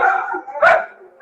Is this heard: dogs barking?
yes